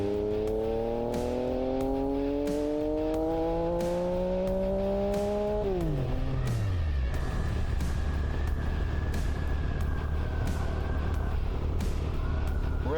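A Yamaha MT-09 motorcycle engine revs up steadily in rising tones for several seconds, then drops off and coasts with a lower, rougher rumble, close and loud throughout.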